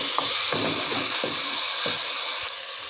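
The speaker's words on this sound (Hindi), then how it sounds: "जब तक टमाटर अच्छी तरह से गल नहीं जाता तब तक हम इसकी भुनाई कर लेते हैं।" Tomatoes sauté in a hot pan, giving a loud, steady hiss and sizzle, with soft periodic scrapes and knocks as a spoon stirs them.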